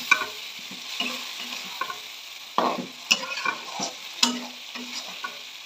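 Potatoes fry in oil rendered from fish, with a low sizzle broken by repeated clinks and scrapes of stirring, some strokes louder than others, and no voices.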